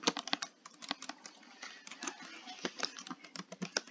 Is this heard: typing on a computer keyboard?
yes